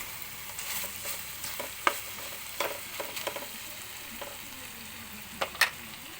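Chicken barbecue pieces fry in their own rendered oil in a pan at home, giving a quiet, steady sizzle with scattered sharp pops and crackles.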